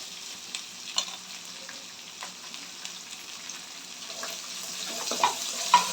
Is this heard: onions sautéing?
yes